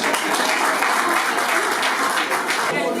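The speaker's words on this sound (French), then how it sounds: "On applaudit pour elle, s'il vous plaît." An audience claps steadily and fairly loudly at a town hall wedding ceremony, a dense wash of applause with voices mixed faintly underneath.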